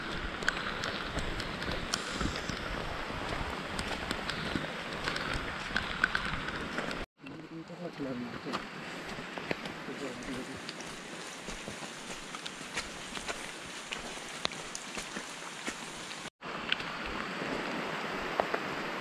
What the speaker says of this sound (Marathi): त्यामध्ये खूप सुंदर असा पाऊस पण पडतो आहे.